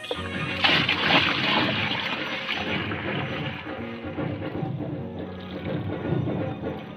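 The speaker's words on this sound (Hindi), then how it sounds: "ये लिक्विड बच गया, अब इसमें मैं पानी शामिल करूंगी।" Water pours steadily with splashing and sloshing into leftover lemon peel liquid being made into homemade plant fertilizer, a continuous rushing stream lasting several seconds.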